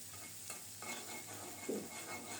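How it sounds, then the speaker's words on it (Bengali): Chopped onion fries in hot oil with whole cumin and a torn bay leaf, a soft steady sizzle with occasional stirring scrapes, fairly quiet and close. "পেঁয়াজটাকে বাদামি করে ভেজে নেব।"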